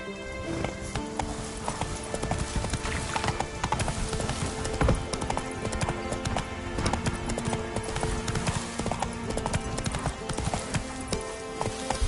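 A horse gallops in the video game Witcher 3, its rapid drumming hoofbeats continuous and close. The hooves sound amid a dense, busy game soundscape with a possible neigh.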